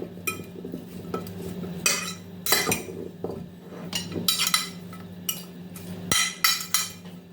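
A metal spoon or fork clinks and scrapes against a bowl while salted snack food is stirred together, with irregular close sharp taps and rattles over a soft background hum.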